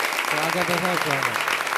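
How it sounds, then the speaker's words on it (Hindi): Audience clapping at a Hindi kavi sammelan poetry gathering fills the background while a voice speaks over it, the applause steady and moderately loud. "लेकिन मैं चाहता हूं एक बार तालियों से मुझे उस रचना के लिए आदेशित कर दें।"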